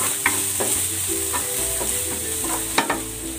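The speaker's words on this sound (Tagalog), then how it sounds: "Magigisa na ako ng bawang." Garlic sautéing in oil in a pan: a steady bright sizzle runs throughout, with a few spoon scrapes and clinks on top, close and fairly loud.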